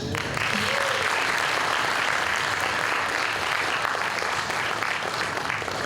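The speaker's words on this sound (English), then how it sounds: "I'd like a round of applause for the judges." An audience at a startup pitch event claps for the judges, the applause rising quickly and staying full and steady from near the start, with a faint voice briefly heard as it begins.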